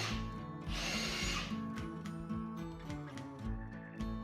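An impact driver bores with a hex-shank drill bit, its motor whirring through rapid repeated hammering bursts, with a loud grinding hiss near the start as the bit bites, all close and without talk.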